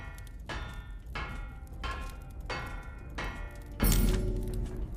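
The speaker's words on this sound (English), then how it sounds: "Keep hammering until it becomes a diamond shape." A sword blade is hammered into a diamond-shaped cross-section in the sword-building video game Bladesong, a series of five evenly spaced metallic strikes, the last one louder and ringing longer.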